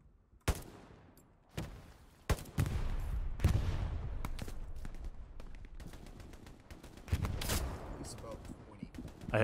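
Gunfire in the World War II shooter Hell Let Loose: scattered sharp shots crack at irregular intervals, some close and loud, others farther off, over a steady battlefield rumble.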